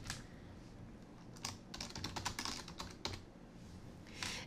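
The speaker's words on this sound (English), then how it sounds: "Then we could type in the subject." An email subject being typed on a computer keyboard, a quick burst of close, light key clicks in an uneven rhythm, preceded and followed by a few isolated taps against quiet room tone.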